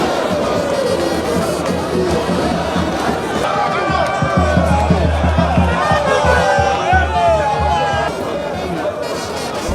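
A dense crowd of supporters in the presidential party's colours surges across the courtyard of the Palais du Peuple in Kinshasa, a loud continuous roar of shouts and chanting that swells midway and keeps going to the end.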